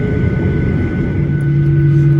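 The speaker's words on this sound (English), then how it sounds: "Wow, a takeoff by a quad-jet aeroplane is always very, very elegant." A four-engine jet airliner takes off with a steady, loud, droning jet rumble that stays even throughout.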